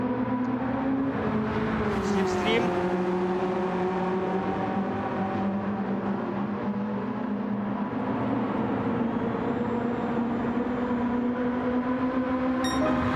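A BMW touring car in a DTM 1989 racing game at Fuji Speedway drones steadily under acceleration, a sustained engine tone rising and shifting pitch continuously with other cars audible nearby and no pauses.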